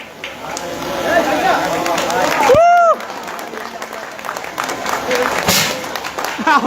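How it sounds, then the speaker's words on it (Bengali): Indoor crowd at a Shakib Khan event cheers and claps for a logo unveiling, a loud wash of applause and chatter with voices talking over it and a whistle-like swoop partway through. "আপনজন লোগো আনভেইল করার জন্য একটা জোরে করতালি ভাই"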